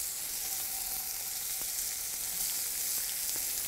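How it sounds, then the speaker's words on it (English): Sliced Roma tomatoes sauté in a hot pan on high heat, a steady, even sizzle and crackle close by throughout, with no voices. "I am just going to saute the slices very quickly to pick up the flavor in the pan."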